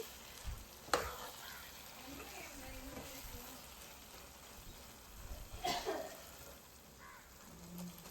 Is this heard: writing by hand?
no